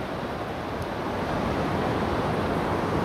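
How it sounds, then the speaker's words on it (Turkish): Night surf rolls onto the sand beach at Taşucu's Kum neighborhood, heard as a steady, loud, unbroken wash of waves that swells slightly toward the end, with no voices. "İşte şimdi denizin dalgaları"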